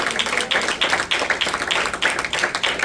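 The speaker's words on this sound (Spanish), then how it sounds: "Le da un aplauso al Señor por su palabra." A church congregation claps together in a steady, rhythmic beat, the sharp claps close and evenly spaced throughout.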